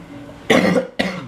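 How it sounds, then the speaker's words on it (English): Two sharp, loud coughs close to the microphone, one right after the other, with no talking. "I'm sorry, I'm still coughing"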